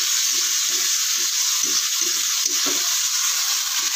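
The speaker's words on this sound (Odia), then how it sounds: "ଇଏ ଅଦା ରସୁଣ ପିଆଜ କଷା ହେଉଛି" Ginger, garlic and onion fry in a pan with a steady, close sizzle and hiss, broken by soft rhythmic scraping and stirring thuds.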